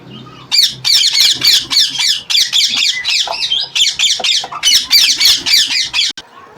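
A pair of green ringneck parakeets with their four chicks in a breeding box squawk loudly and almost continuously at close range, in rapid harsh bursts.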